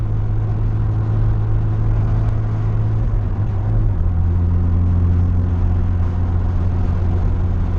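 Mazda RX-7 with a catback exhaust cruising in fifth gear, a steady low engine drone and road rumble holding throughout, with a brief dip in pitch partway through before settling back to an even hum.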